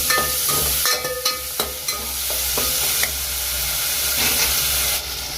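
Tomato and onion sizzling in a hot pan while a spoon stirs and scrapes, with a few sharp knocks against the pan.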